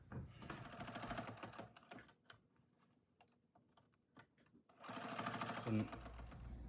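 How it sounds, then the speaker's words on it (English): A sewing machine stitches along the sides of a children's fabric face mask in fast, steady mechanical bursts, with a quieter pause in the middle before it starts running again. "I'm going to sew up each side, and then I'm going to turn it around and sew back"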